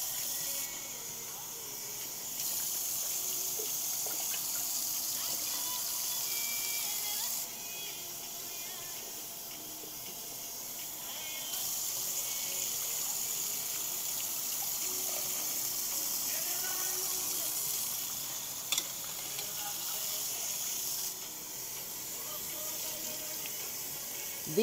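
Water running over seeds being rinsed for sprouting, a steady close hiss that stops and restarts in long stretches, with a small knock near the end.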